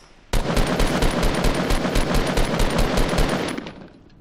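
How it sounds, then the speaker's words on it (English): Rapid bursts of automatic gunfire in Fortnite Battle Royale ring out continuously for about three seconds, loud and close, with a steady rattling rhythm. "I hear people shooting to like my left"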